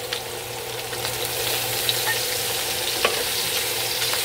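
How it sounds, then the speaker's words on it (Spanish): Longaniza sausage with chili pepper, cilantro and onion sautéing in a pan, a continuous close sizzle that swells slightly partway through, with a few faint stirring clicks and no talking. "Echárselo todo junto para que vaya sofriendo"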